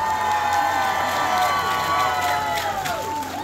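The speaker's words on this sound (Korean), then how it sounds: "공정식 선생님께 뜨거운 박수 부탁드리겠습니다" A festival crowd at an outdoor open-air song contest cheers and claps for a singer, a dense continuous roar of applause and whoops with a bright held voice or tone drifting above, steady and loud throughout.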